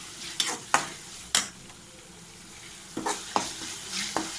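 Onions and tomatoes sautéing in oil for a Tamil mutton gravy give a steady soft sizzle, broken by several sharp scrapes and clacks of a spoon stirring the pan.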